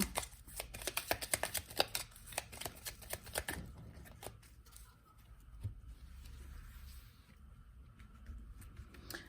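Tarot cards being shuffled, a rapid run of crisp riffling flicks up close that then gives way to quieter, sparse handling of the deck.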